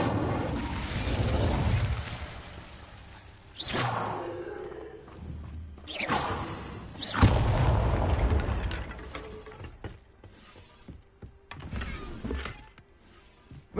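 Whooshing, roaring bursts of the Incendio fire spell in Hogwarts Legacy, several separate casts flaring up and fading over about fourteen seconds, fairly close and with no talking.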